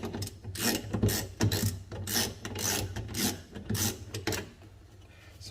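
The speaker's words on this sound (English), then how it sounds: "So I'm trying to remove the screws basically." A star wrench grinds and ratchets against screws on a cooktop stove, with repeated rasping, scraping bursts at close range and short pauses between turns.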